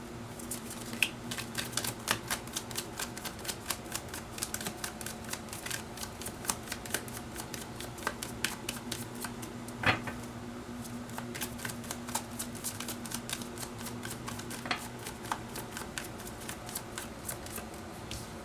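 Tarot cards being shuffled by hand: a continuous run of rapid, crisp riffling flicks at close range, steady and moderately quiet throughout with a few sharper snaps, and no voices.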